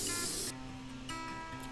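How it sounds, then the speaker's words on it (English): A spray can of adhesive hisses in a short, loud burst up close, then stops, leaving quiet room tone before a fainter second spray. "sprayed the top and the bottom of the base plates with spray adhesive."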